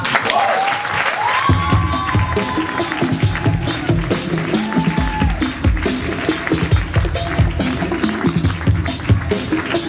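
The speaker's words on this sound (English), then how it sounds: "Round of applause for Nicole Homer." Sustained applause and cheering from a poetry-reading audience, dense and continuous throughout, with a few voices and musical tones underneath.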